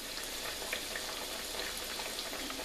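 Panzerotti fry in hot oil in a pan with a steady, dense bubbling crackle that runs evenly throughout, with no voices.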